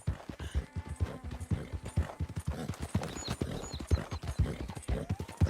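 Horse hooves clip-clopping in Red Dead Redemption 2, a steady rhythmic trot of close, loud footfalls with a brief whinny and someone talking over them.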